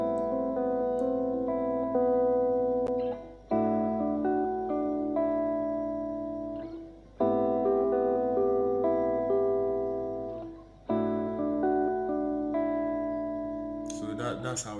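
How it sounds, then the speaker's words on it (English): A guitar sample played back in FL Studio sounds as sustained, effect-laden chords that repeat in four phrases of roughly equal length, clear and alone, with a brief noisy burst at the very end. "I have this sample, this guitar sample, which sounds like this."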